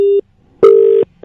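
Telephone disconnect tone: two steady, loud electronic beeps, the first short and the second longer, separated by a gap, with the start of a third at the end.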